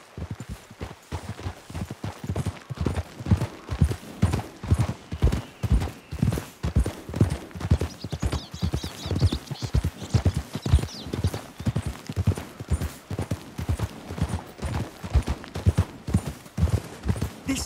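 Horses' hooves clip-clop steadily in Red Dead Redemption 2, a rhythmic, close series of hoof strikes at a walking pace continuing for many seconds, with a faint whinny-like sound partway through.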